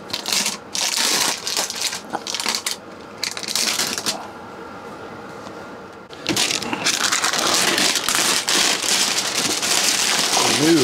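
Scissors snip into cellophane wrapping on a Cadac Dometic 2 Cook 3 two-burner camping stove, then the crinkly plastic is torn and pulled off in loud, close crackling bursts.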